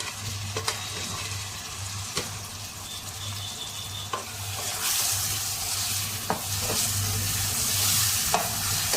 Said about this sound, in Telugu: ఇవన్నీ బాగా వేగనివ్వాలి